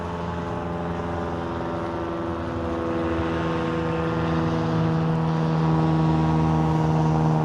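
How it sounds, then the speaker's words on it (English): Airplane passing overhead, a steady droning hum with a fixed low tone that slowly swells louder toward the end, heard alone without talk. "There's a plane."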